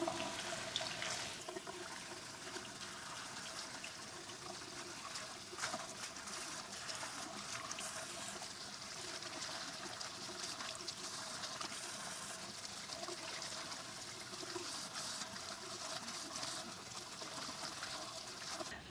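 Lukewarm tap water runs steadily into a sink as a repotted houseplant is rinsed, a continuous close splashing and trickling with no talk.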